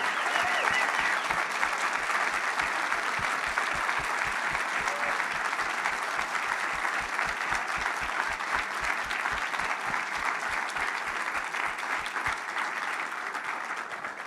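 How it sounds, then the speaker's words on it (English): Audience at a holiday extravaganza production applauding the band and performers with steady, dense clapping that holds evenly throughout, full and continuous with no talk over it. "let's give a roaring applause for the band, the performers, and everybody that put this production together"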